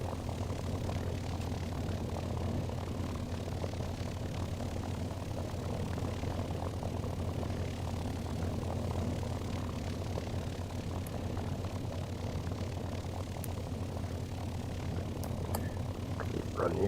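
Propeller warbird engine idling and rumbling steadily as the warplane taxis, a continuous low drone at moderate level with no speech over it.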